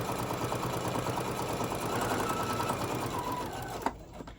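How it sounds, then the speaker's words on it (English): A sewing machine stitches fabric for a tote bag, running in one steady, continuous stretch of close mechanical whirring that stops with a click before quiet. "I'm gonna go sew all the way down, trying to keep everything in place"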